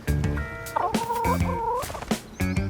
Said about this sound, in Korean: 이 키를 누르면 닭을 쓰다듬는데